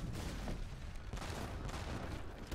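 Dense, continuous artillery and musket fire in a strategy video game battle between Dutch and Portuguese armies, a steady dull rumble of overlapping shots with no clear gaps, fairly quiet and distant-sounding.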